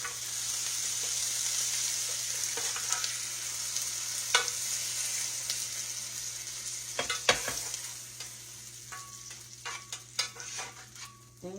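Pineapple glaze sizzles steadily in a hot pan while a spoon stirs it, with scattered scraping clicks and clinks near the end, close and fairly quiet, no talking.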